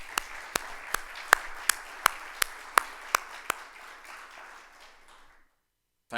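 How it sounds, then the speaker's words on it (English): About a dozen distinct claps ring out at a steady rhythm over a thin bed of crowd applause at an annual general assembly opening ceremony, then everything fades to silence. "Round of applause"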